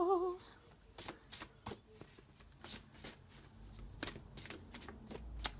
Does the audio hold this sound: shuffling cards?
yes